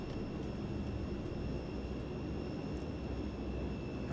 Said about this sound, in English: British turboprops from this era are very screamy.